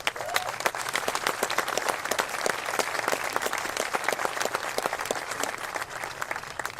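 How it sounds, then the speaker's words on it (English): Mourners applaud at a memorial ceremony for Borderline shooting victims, a steady round of crisp, close hand claps with distinct individual claps standing out across the whole stretch. "Let's give them a round of applause."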